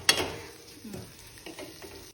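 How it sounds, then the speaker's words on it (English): Roughly chopped onions sizzle and fry in a pan as a gravy base for fish, with a sharp stir at the start and soft frying hiss continuing after. "here we are frying the onions, which are roughly chopped."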